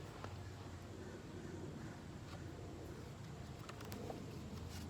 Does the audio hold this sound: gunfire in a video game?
no